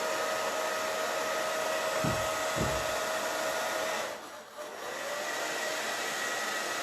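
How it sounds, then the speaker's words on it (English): A blow dryer runs steadily with a loud, constant broadband whoosh and a brief dip in airflow near the end; two low thumps sound partway through. "I'm going to use a blow dryer, so you guys will have to bear with me on the noise"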